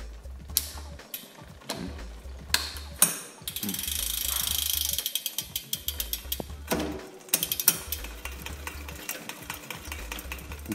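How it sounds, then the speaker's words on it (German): A bicycle's rear derailleur sits out of alignment, so the chain grinds and chatters against the rear sprockets. Sharp metallic ticks and clicks repeat in an uneven, rapid rhythm, close and fairly loud, over a steady mechanical whir. "Diese Art, das ist so ein hackendes Geräusch, als ob eben die Schaltung nicht mehr exakt auf diesem einen Ritzel ist"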